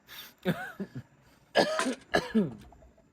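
A person coughs in several harsh bursts, with a throat-clearing quality, close and fairly loud with brief pauses between fits.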